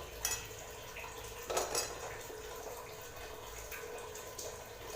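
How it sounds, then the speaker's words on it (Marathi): Butter melts in a pot for homemade ghee while a spoon stirs it, making faint metallic scrapes and clinks over a quiet background, with a couple of louder knocks against the pot. "हे बघा आता लोणी वितळायला सुरुवात झालेली आहे थोडं थोडं करून आता याला हलवत राहिलं"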